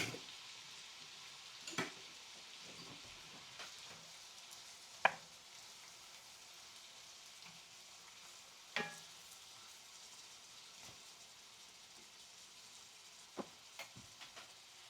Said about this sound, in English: we're going to add our onions and our celery. And we're going to saute this about 10 minutes